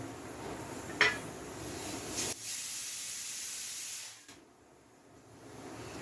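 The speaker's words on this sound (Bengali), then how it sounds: "ওদিকে আমার ডাল আলু, ছোলার ডাল আলু সিটি মেরে সিদ্ধ হচ্ছে।" A pressure cooker boiling chana dal and potatoes gives a loud steady steam hiss with a couple of metallic clinks, then the hiss drops sharply and fades to a low rushing.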